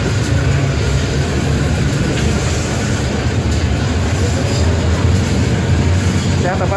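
Serayu local train pulling out of Rendeh station, heard from right behind the locomotive: a loud, constant rumble and roar of rolling wheels and engine, with a faint squeal near the end.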